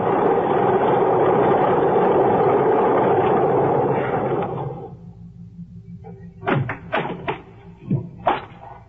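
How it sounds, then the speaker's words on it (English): A single-engine plane taxis up an airstrip at Cusco, its steady engine drone holding loud before fading away, then a few sharp knocks and taps follow. "I got to the airport just as the plane taxied up the strip."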